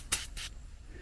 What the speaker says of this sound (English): All we need is some glass cleaner,